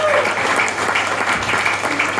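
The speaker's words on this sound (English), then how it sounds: "keep that cheer going for George Coppen." Comedy club audience in Wigston, Leicestershire applauding and cheering after a stand-up set, a dense, steady wash of clapping and whoops that continues loud and unbroken throughout.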